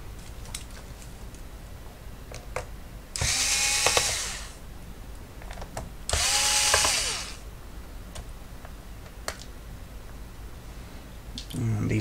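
A power screwdriver backs Phillips screws out of a PC case in two separate whirring bursts of about a second each, rising in pitch as each screw frees, with quiet handling clicks in between.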